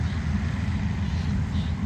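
A combine harvester runs steadily, a dense low engine rumble with a constant whine above it, close and unbroken, working a paddy field.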